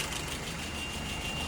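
A car engine idles steadily at about 700 rpm, a low continuous rumble that holds even and close with no revving and no voices.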